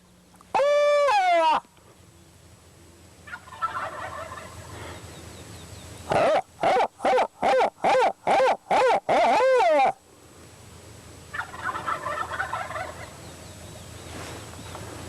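A wild American turkey gobbles loudly and close by outdoors at early morning. One rattling gobble opens the clip, then a rapid run of sharp, evenly spaced calls follows, with quieter gobbling in the background.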